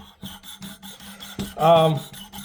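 An axe is sharpened by hand on 600-grit abrasive with a series of short, rhythmic rasping strokes, close and fairly quiet, with one longer, louder scrape near the end.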